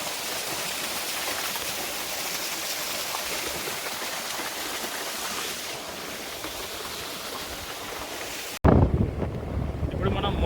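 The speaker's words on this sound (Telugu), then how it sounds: "ప్రశాంతంగా వాటర్ సౌండ్ ఓన్లీ." Water washing steadily under strong wind buffeting the microphone for several seconds, then a sudden cut to a closer, louder rush at the end.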